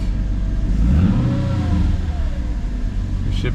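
A Mercedes C55 engine running and revving up, a loud close rumble that swells and falls in a rev, with a steady idle underneath.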